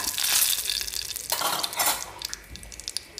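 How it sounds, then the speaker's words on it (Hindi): Curry leaves crackle and hiss in hot oil in a pan, a bright close sizzle with a spoon stirring and scraping briefly against the metal. "अब इसमें मैं डालूंगी कड़ी पत्ता। अच्छे से भून लेंगे।"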